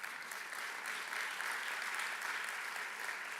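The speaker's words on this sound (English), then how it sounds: "Round of applause." Audience applause at a business investment conference in Jamaica, a steady, even wash of many hands clapping at moderate distance, sustained throughout with no talk over it.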